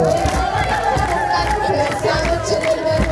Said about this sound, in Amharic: ከመስቀሉ ክርስቲያኖች እልል በሉ